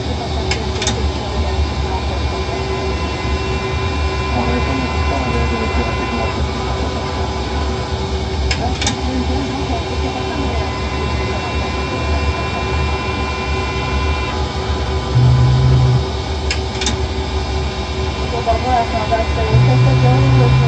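Boeing 747 jet engines roar steadily during takeoff in a home-cockpit flight simulator, a dense continuous whine and rumble with a few short tones and clicks, while a person talks over it.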